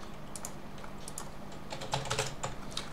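Steady typing on a computer keyboard while a password is entered during a Mabox Linux 17.02 install, a soft continuous patter of key presses, close and fairly quiet, with no talking.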